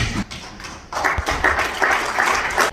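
Audience applause fills a room at a Nigeria-Britain Association executive roundtable, a steady patter of many hands clapping at moderate volume after a brief pause, continuing throughout.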